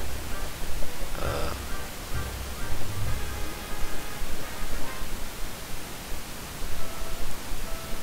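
Hissing radio static from a Pokemon SoulSilver game sweeps and crackles while tuning for a signal, with faint tonal blips breaking through the steady noise.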